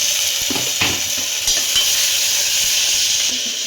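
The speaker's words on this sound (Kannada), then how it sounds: "ಇವಾಗ ಒಂದು ಕುಕ್ಕರಲ್ಲಿ ಎಣ್ಣೆ ಕಾಯಕ್ಕೆ ಇಟ್ಬಿಟ್ಟು ಸ್ವಲ್ಪ ಸಾಸಿವೆ, ಸ್ವಲ್ಪ ಜೀರಿಗೆ, 1-2 ಈರುಳ್ಳಿ ಒಂಚೂರು ಫ್ರೈ ಆದಮೇಲೆ ಟೊಮೆಟೊ ಹಾಕೋಬೇಕು." Mustard seeds, cumin and onion sizzle in hot oil in a pressure cooker, a steady close frying hiss with a few soft stirring knocks and no voices.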